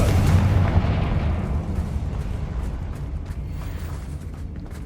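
A Confringo spell explosion in the video game Hogwarts Legacy, a loud booming blast at the start whose deep rumble slowly decays across the whole clip, with no talk.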